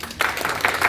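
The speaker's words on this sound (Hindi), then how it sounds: "तालियां होनी चाहिए" Audience applause at an event honouring Pandit Gangaratna Pandey, with a short burst of dense clapping from a crowd that swells in uneven pulses and stays close and fairly loud.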